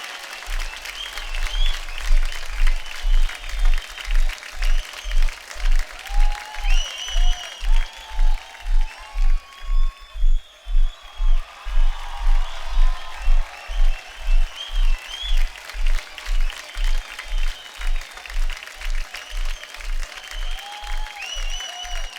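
Loud, sustained studio audience applause on a Hindi comedy talk show as Riteish Deshmukh and Akshay Kumar are welcomed, with dense clapping and cheering throughout and a steady rhythmic beat of music underneath.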